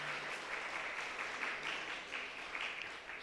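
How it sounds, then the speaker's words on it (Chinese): Church congregation at a Sunday worship service clapping in welcome, a steady crowd applause filling the whole moment at moderate distance. "我们也拍手欢迎他欢迎你们来参加礼拜哈"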